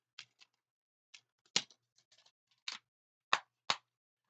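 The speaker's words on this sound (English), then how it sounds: "Always love that sound of the clicking." Plastic clicks from a DVD case on a turning tray, a few sharp separate snaps spaced irregularly and close by, with a few softer ticks between them and no talking.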